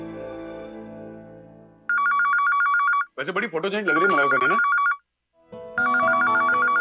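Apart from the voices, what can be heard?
telephone ringing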